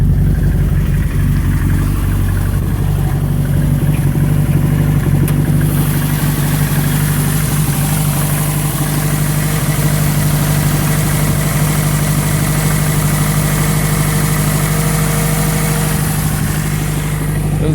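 A car engine idles roughly and continuously up close, a loud, unchanging low rumble with a faint vibrating buzz and no one speaking.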